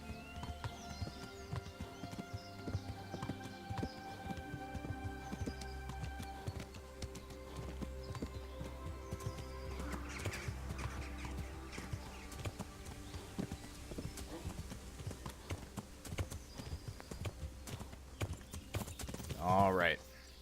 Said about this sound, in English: Getting the hang of this riding through the woods thing.